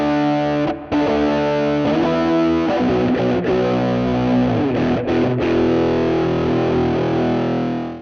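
An electric guitar plays through a DIY RAT distortion pedal with a clean blend, set to full effect: thick, saturated chords ring loud and sustained, with a few quick restrikes and a brief dip near the start.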